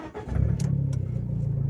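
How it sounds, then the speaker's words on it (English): A modified car with a louder aftermarket setup cranks and fires up, settling into a deep, loud, steady idle rumble close by, heard alone. "we're just going to turn the car on here to show you what the absolute beast can sound like"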